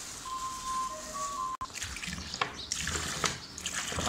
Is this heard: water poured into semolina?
yes